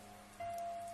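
Rain falls steadily in a brief, quiet burst of continuous patter and hiss that grows slightly louder partway through, with a faint steady tone beneath.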